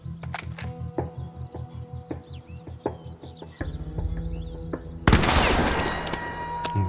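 Gunfire from The Quarry video game: a fast run of regular sharp reports gives way to a louder, harsher blast near the end, heard alone over faint background.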